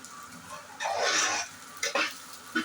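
Carrot with ginger and garlic sautéing in a pan for cauliflower fried rice, a spatula stirring in short close bursts of sizzle and scrape over a low steady background hiss.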